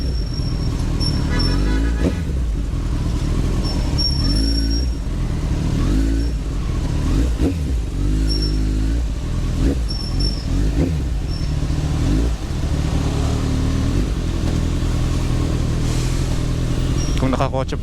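A Kawasaki ZX14R motorcycle revs repeatedly while weaving through heavy city traffic, its loud close engine rising and falling in bursts over steady road noise and wind, with other vehicles around and someone talking throughout.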